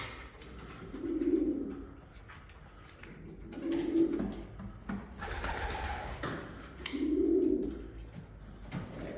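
Show pigeons of a Turkish exhibition breed cooing in a loft, three slow, soft rolling coos spaced a few seconds apart, with light rustling and faint background chatter from other birds.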